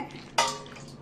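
Ice cubes tipped into a bowl of soaked urad dal water give one sudden bright splash and clatter, followed by a fading trickle, close and fairly quiet.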